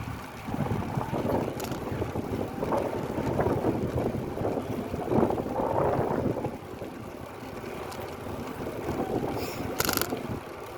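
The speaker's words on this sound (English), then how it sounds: "It's blowing harder. I'm hitting at least a 3-mile-per-hour headwind." A headwind blows while bicycling on a beach on Sanibel Island, Florida. Steady, rough wind buffets the microphone in a loud rumbling roar that swells and eases, with a brief rattle near the end.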